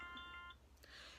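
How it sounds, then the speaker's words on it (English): A timer alarm goes off with a short, faint electronic chime of a few bright tones, then falls quiet before a soft rustle. "there's my alarm, so that 2 minutes is up"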